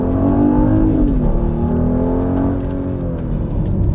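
A 2021 Genesis GV80 luxury SUV accelerates on the road, its engine producing a loud, smooth, rising tonal hum that eases briefly and then climbs again.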